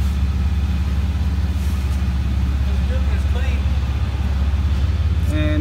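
A loud Dodge car with an aftermarket wheel drives past, a steady heavy engine rumble filling the whole stretch, heard from underneath another car with a faint smell of unburnt fuel in the air.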